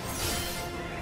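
A hammer smash attack in the Kingdom Hearts 3 video game, a loud, dense crashing impact that fills the whole moment without pause.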